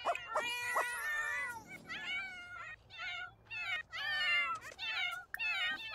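A cat in The Sims video game meows repeatedly, a string of close, clear, wavering meows with short pauses between them and no talk.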